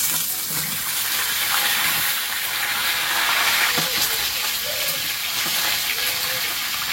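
Malabar spinach stalks frying with potatoes in a pan give a steady, fairly loud hiss and sizzle throughout, with no talking heard.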